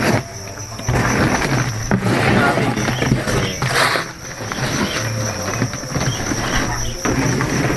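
Farmed crickets chirp steadily during harvest, some of them dying, in a dense, high trilling that runs throughout, with rustling and handling noises and a voice talking over it.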